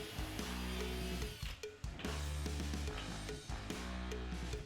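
A power drill bores a smaller hole through the top of a flip-top cart, the motor whirring steadily with brief pauses between bursts, fairly quiet and heard alone.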